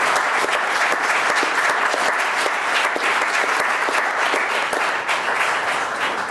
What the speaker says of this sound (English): if I could ask everybody to give a round of applause